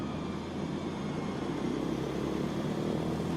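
A small propeller airplane engine at full takeoff power drones as a loud, steady, unbroken roar throughout.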